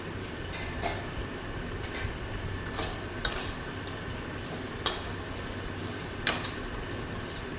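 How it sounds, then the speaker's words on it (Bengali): A spoon stirs semai pulao with melting sugar in a pan over low flame, producing a soft continuous scraping with a few sharp metallic clinks against the pan spaced a second or two apart. "আবার একবার নাড়িয়ে দেবো।"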